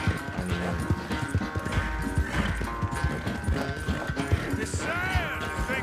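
Hooves clip-clop in a quick, steady galloping rhythm from a horse in the Red Dead Redemption 2 video game, with in-game music and effects layered around them.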